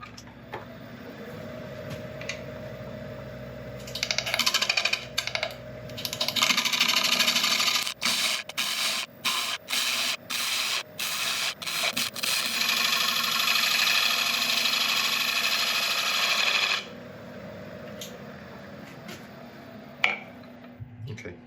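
A wood lathe spins a highly figured maple bowl blank cut from guitar stock at about 750 RPM. The motor whirs up to a steady hum with rhythmic ticking, then winds down.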